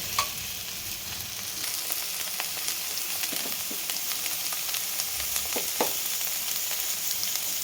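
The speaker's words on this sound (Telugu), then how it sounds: "చక్కగా వేయించుకోవాలి." Okra sizzles steadily in a hot pan for a tomato-okra curry, a continuous close frying hiss broken by a few soft stirring scrapes, with no voices.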